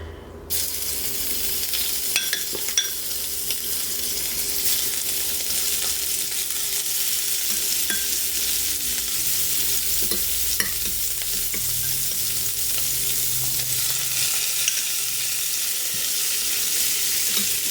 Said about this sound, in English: now we are going to sear our scallops and prawns